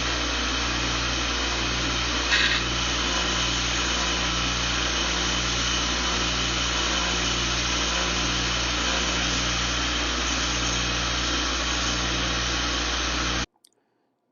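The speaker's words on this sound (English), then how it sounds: "We're using the grinder wheel to actually clean the wheels and make sure we got them totally clean." Steady close whine of a small grinder wheel cleaning the wheels of a Lionel 2343C B unit toy train, running continuously with low hum and a brief tap near the start before cutting off abruptly at the end.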